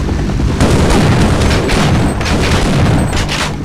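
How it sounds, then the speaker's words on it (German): Loud explosions rumble in the video game Half-Life, forming a dense, continuous barrage of booms mixed with what sounds like rapid gunfire. The sound stays close and heavy throughout, with no pauses. "Was auch immer da explodiert ist."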